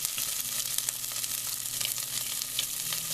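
Cabbage sizzles steadily in a hot pan, a dense crackling hiss dotted with small pops throughout, close and continuous with no talking.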